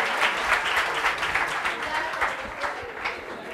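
A classroom audience gives Berat a round of applause, a dense steady clatter of many hands close by that carries on without a break, with a few voices mixed in.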